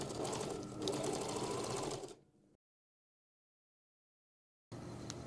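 A sewing machine stitches across a tote bag seam with a steady whirring run, stops into silence for about two seconds, then starts stitching again.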